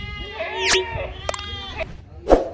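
Goats and their kids bleat close by in a goat pen, with several short, wavering calls spread through the moment and someone talking between them.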